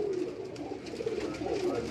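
Pigeons on a Karachi rooftop cooing softly nearby, low throaty rolling calls repeating over a light background hum.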